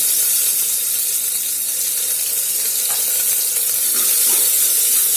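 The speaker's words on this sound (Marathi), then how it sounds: "कांदा छान परतून घ्यायचा कांदा एकदम मोस्टली असं छान परतून घ्यायचा" Onion sautés loudly in hot oil with mustard seeds and cumin, a dense, unbroken close sizzle and hiss that stays strong throughout.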